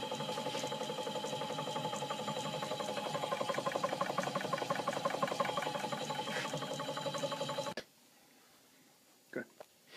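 A cottage water pressure pump hums and buzzes with a steady rhythmic mechanical whir, then cuts off abruptly, leaving near silence broken by a couple of faint knocks.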